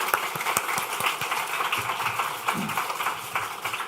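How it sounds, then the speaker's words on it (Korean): Church congregation at a Sunday service clapping in welcome for a speaker, a dense, even burst of applause that holds steady throughout. "다 같이 크게 격려의 박수로 환영하겠습니다"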